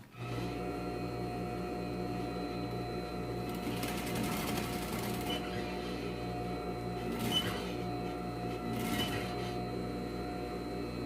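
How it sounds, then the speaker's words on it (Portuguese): A sewing machine runs steadily, stitching an invisible zipper seam on fabric, its motor a continuous close hum with a few brief louder bursts as the stitching speeds up, and no talking. "passo a costura até chegar a 2 centímetros em cima da costura que já foi feita com o zíper"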